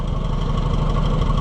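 An Oliver 550 tractor's gas engine idles steadily up close, a loud, even low rumble with a fine regular pulse and no talk over it.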